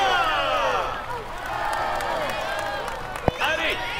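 A roadside crowd at the Tour de France cheers, whoops and claps for a passing cyclist, a continuous wash of excited voices with a sharp clap near the end.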